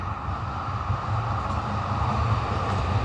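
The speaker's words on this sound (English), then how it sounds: "The train is going." A train rolls along in Budapest, giving a steady low rumble and mechanical drone that swells slightly as it goes, heard close and continuous with no talking.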